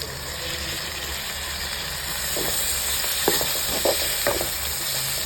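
Tomatoes sauté with onions in a pan for pirandai kara kuzhambu, giving a constant loud hiss and sizzle with a few light scrapes of stirring toward the end, close up.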